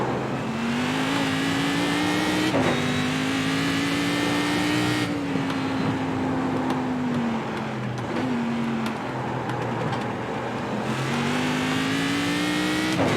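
A Cadillac CTS-V race car at Bathurst in iRacing drones loudly and continuously, its engine note rising through the gears with sharp drops at each shift.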